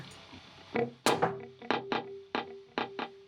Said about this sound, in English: a dual delay, quarter note, and a dotted eighth that sounds like this.